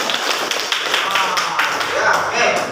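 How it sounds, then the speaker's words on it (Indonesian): A classroom of students claps hands together during a Pancasila civics lesson, a close, busy flurry of taps and claps with voices mixed in. "Oke, tepuk tangan. Tepuk tangan lah."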